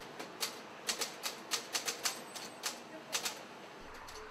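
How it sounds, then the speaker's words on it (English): Keys of an old manual typewriter clack out a one-page newsletter in an uneven run of sharp strikes, close and fairly quiet, with faint street and bird sounds from San Francisco behind. "he pecks out a one-page newsletter on an old typewriter"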